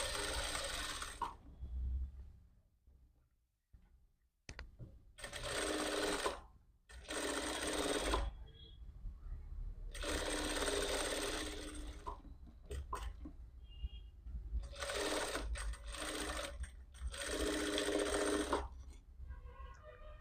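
A sewing machine stitches a blouse jacket in repeated bursts of motor whirring and needle clatter, each run lasting a second or two and separated by short pauses, close and steady with no talking.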